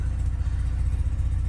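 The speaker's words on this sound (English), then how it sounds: "that knocking noise does go away when I push the clutch in, barely" A Mazda RX8 rotary engine runs with a steady low drone and a faint repetitive knock, traced to a worn pressure plate, heard close and alone.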